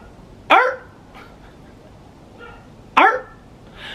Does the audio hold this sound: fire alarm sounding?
no